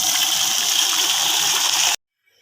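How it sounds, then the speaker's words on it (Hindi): Water pours steadily into a vessel while moringa is rinsed in a kitchen, a loud continuous gushing splash that cuts off abruptly near the end. "दोबारा इतना ही पानी डालूँगी, फिर छानूँगी"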